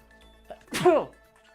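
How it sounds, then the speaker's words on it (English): A single voiced sneeze from a character in the Danganronpa video game: a sharp, fairly loud burst with a falling vocal tone, heard on its own with no talk around it. "I sneezed."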